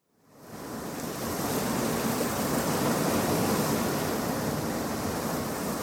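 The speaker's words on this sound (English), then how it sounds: "you can hear the waves of the beach, always sounding much more ferocious than they actually are" Ocean waves crashing on a beach, fading in quickly to a dense, continuous roaring wash that holds loud and steady, with no voices.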